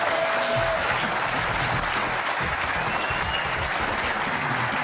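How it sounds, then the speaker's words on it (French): A crowd applauds steadily and loudly throughout, a dense continuous wash of clapping with no talk. "le voici sous vos applaudissements"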